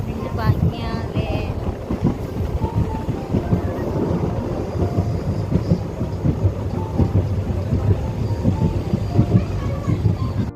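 A moving train on a journey to Palani: a continuous, loud, rumbling roar of wheels and carriage noise that stays steady and dense throughout.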